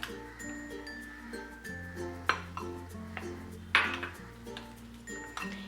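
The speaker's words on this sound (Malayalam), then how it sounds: "ഇതിലേക്ക് കുറച്ച് വെള്ളം ഒഴിച്ച് ഇത് നന്നായിട്ട് പേസ്റ്റ് പോലെ മിക്സ് ചെയ്തെടുക്കാം." A spoon clinks against a bowl a few times while spice powders and water are stirred into a paste for a Kerala fish curry, with sharp clinks over steady background music.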